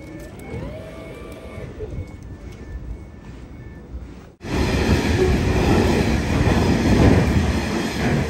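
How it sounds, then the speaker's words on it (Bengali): A train pulls out of a UK railway station. A quieter stretch with a faint voice and station ambience gives way abruptly to a loud, steady rumble and rush of the train close by. "এটা ট্রেনটা চলে যাবে"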